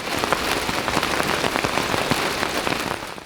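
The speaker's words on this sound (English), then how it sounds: "a safe spot where they can enjoy the rain, play, and even bathe when it's wet outside" Rain pours steadily onto a garden aviary, a dense close patter of drops striking surfaces, continuous and fairly loud with no voices.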